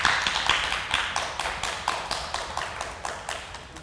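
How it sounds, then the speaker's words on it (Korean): Audience at a Korean gallery artist talk welcoming an artist with steady applause, a moderate crowd clapping in a fairly even rhythm, mid-distance, with no talking over it. "작가님 큰 박수로 환영해 주셨으면 좋겠습니다."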